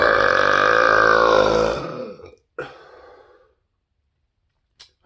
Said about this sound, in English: Because, golly, these burps.